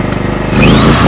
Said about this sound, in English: So I've got a power drill.